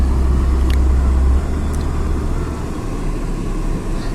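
Steady broadband road noise from cars and motorbikes moving along the NH 15 main road near the Assam Sahitya Sabha 2023 gate, with a loud low rumble easing slightly partway through and no talk.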